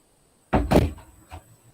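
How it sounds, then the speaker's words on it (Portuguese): A door swings open indoors with a sharp latch clack and a loud thump of the door moving, then a softer knock a moment later, close by in an otherwise quiet room. "Vocês me permitem abrir essa porta um momento?"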